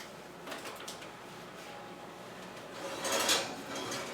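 A Dutch pancake is lifted out of a kitchen oven. Faint clattering and a soft sliding scrape come first, followed by a louder rattling clunk of the oven door and the pan, heard close against a quiet room.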